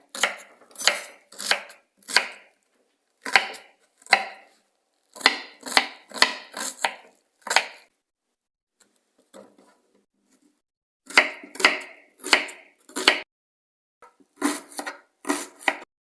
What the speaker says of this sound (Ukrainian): Поріжемо цибулю мілко-мілко для фарша.